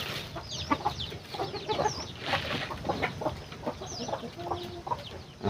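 Several chickens, including a patterned hen, cluck and chatter continuously nearby outdoors, overlapping calls with a few higher squawks, moderately loud with no talk.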